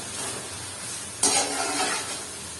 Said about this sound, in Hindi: इसको हमने मसाले को भूनना है अच्छी तरह, ताकि हमारे टमाटर जो है वो इसमें गल जाए।